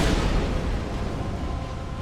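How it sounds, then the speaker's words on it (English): A big, booming explosion in the video game Dark Souls II, a dense low rumble that hits hard at the start and then rolls on as a broad, sustained roar without any speech. "I need to get far away, because that explosion is big now."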